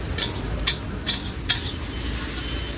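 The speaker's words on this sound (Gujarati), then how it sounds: "હવે તેને પણ હલાવી લેશું ધીરે ધીરે" Chutney being slowly stirred into green moong pulao in a pan gives soft scraping strokes, four sharper spoon scrapes spaced about half a second apart over a low sizzle, with no talking.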